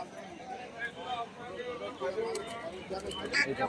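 Racing pigeons coo softly at a busy pigeon market, with someone talking over the low, continuous murmur of birds.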